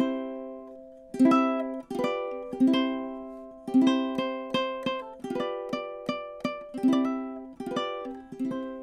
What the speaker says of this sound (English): taking like Hot Cross Buns, which normally sounds like this, right?